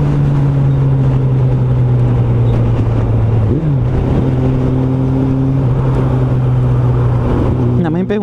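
Suzuki Bandit 650N motorcycle engine droning steadily while riding, then a brief blip of revs as it downshifts, followed by a renewed rise in engine pitch, loud and close with wind rush.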